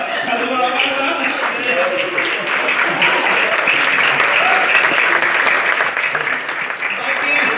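A studio audience claps loudly and steadily at a comedy show, a dense wash of applause that swells in the middle and carries on throughout, with voices mixed in.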